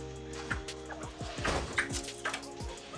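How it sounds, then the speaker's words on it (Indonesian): A Lady Amherst's pheasant kept as a pet gives a series of short, fowl-like calls, several sharp notes spread across a few seconds over a constant background hum. "Ini juga adalah lady amur pisang ya."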